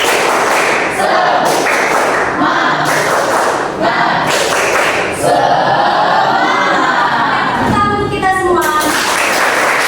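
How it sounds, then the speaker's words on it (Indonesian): A seventh-grade class performs a rhythmic spirit clapping chant, loud repeated claps and thuds in patterned bursts mixed with children chanting together, near and continuous. "Kita tepuk semangat dulu. Tepuk semangat."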